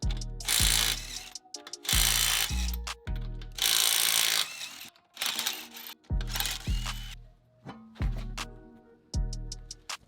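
An impact wrench fitted with chrome sockets hammers bolts loose on a Subaru STI coilover install, loud rattling bursts repeating in close succession with short gaps between them.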